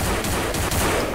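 Dense, rapid gunfire bursts in Garry's Mod crackle continuously, loud and close, like automatic weapons firing in quick succession.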